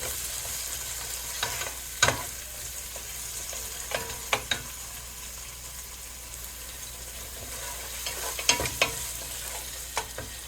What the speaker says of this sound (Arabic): نضيف الطماطم ونحركه بشكل جيد